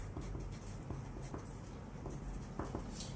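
Pen scratching on paper while someone writes out a physics working, soft irregular strokes close by over a steady low room hum, faint and continuous.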